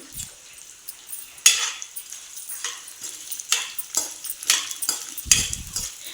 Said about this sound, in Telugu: చిటికెడు మెంతులు చిటికెడు జీలకర్ర దొరగా వేయించుకుందాం